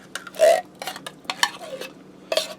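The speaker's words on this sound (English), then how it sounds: "I have a can of cream of celery soup. This is 10½ ounces. I'm putting that in." A 10½-ounce can of condensed cream of celery soup goes into a pot, heard as a few short metallic clinks and scrapes of a spoon against can and pot, close and fairly quiet.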